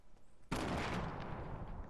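Sudden burst of dense gunfire in the Fortnite video game erupts after a quiet moment, loud and sustained with rapid overlapping shots filling the rest of the moment.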